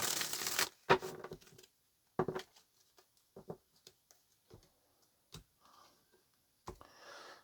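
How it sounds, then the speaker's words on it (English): Tarot cards are shuffled and handled: a burst of riffling, then scattered soft taps, flicks and slides, quiet and close with pauses between. "Let's get one more shuffle"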